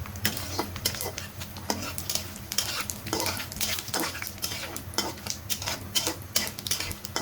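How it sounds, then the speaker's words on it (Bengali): Spoon stirring bay leaves, dried chilies, cumin and cardamom in hot oil in a pan for chicken bhuna, with steady scraping and clinking against the metal pot over a faint sizzle. "এটাকে ভালো করে নেড়ে নিতে হবে, না হলে যে কোনো সময় পুড়ে যেতে পারে।"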